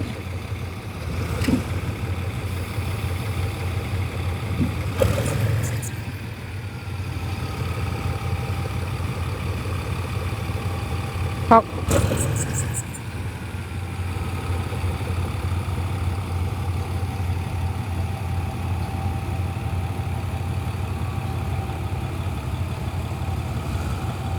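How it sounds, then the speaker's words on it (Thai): A GE 4015 diesel locomotive idles outside the depot near Bangkok station, a steady low rumble throughout with a couple of brief louder bursts and clanks early on. "เกิดอะไรขึ้น GE 4015พ่นควันหน้าโรงรถจากสถานีกรุงเทพ"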